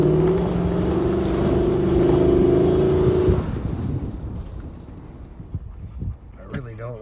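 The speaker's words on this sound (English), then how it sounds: "I really don't like giving it all the horsepower this V8 has. It's kind of rough on this old 4Runner." An old Toyota 4Runner with a swapped-in V8 engine strains at high revs, a loud sustained drone that drops off after a few seconds into rougher rumbling and scraping as the truck pushes through on a spring camp trail.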